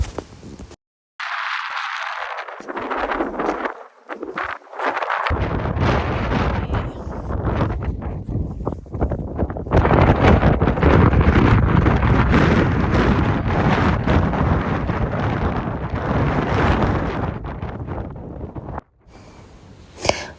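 Strong gusting wind buffets the microphone near Kirkjufell mountain in Iceland, a loud, continuous roaring rush that swells and eases for most of the span before briefly dropping away near the end.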